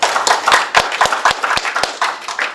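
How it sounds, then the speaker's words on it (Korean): At a youth symposium, the audience claps to welcome a presenter to the stage. Sharp, distinct claps land close together in an uneven rhythm, sounding like a modest group rather than a roaring crowd. "한 분 한 분 나오실 때마다 좀 큰 박수로 환영해 주시기 바랍니다"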